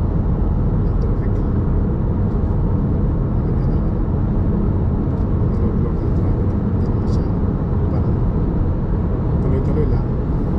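Steady highway traffic flowing on HWY 410 in Brampton, Ontario in the evening, heard as a continuous broadband road rumble and tyre hum from inside a cruising vehicle, with no distinct pass-bys.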